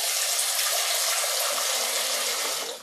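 Water gushing from a kitchen tap in a home kitchen, a steady, fairly loud hiss of running flow that holds for the whole stretch before tailing off at the end, with no talking.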